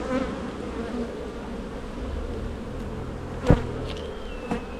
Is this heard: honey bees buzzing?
yes